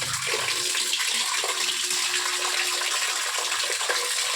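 Water gushes steadily into a bucket, a continuous close hissing pour, lasting throughout without pause, for diluting homemade liquid fertilizer.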